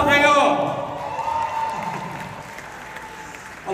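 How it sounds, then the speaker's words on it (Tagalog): An audience at a costume ball for film villains claps, loudest at the start alongside a voice and musical tones, then thinning into a scattered, fading patter. "pumalakpak kayo!"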